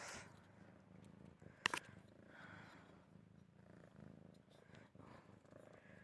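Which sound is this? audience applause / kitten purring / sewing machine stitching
kitten purring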